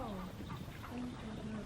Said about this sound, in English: I hear the duck.